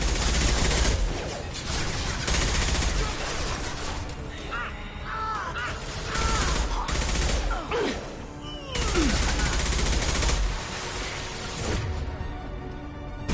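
Gunfire in the video game Mass Effect 2, dense bursts of shots and impacts in loud waves with brief lulls, mixed with combat effects and voices.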